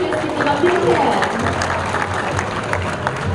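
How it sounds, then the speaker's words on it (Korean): Audience clapping for three coaches at an awards ceremony of an international women's handball tournament, sustained and moderately loud with a crowd murmur underneath. "다시 한번 앞에 있는 세 분의 감독님들께 큰 박수 부탁드립니다"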